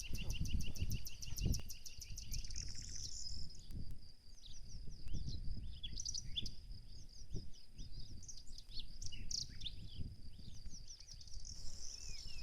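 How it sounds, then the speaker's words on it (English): Birds sing and chirp repeatedly along a countryside walk among trees, with bright trills and tweets in the upper range over faint, rustling, low background noise and a cricket-like buzz. "Lovely bird song and trees."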